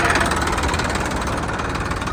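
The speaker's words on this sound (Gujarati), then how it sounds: "સો ફાઇનલી અમારી હેલ્પ કરવા માટે એક ટ્રેક્ટર ઊભું રહી ગયું છે" A tractor stopped at the roadside, its engine idling in a steady, close, continuous low rumble with a faint vibration and no voices.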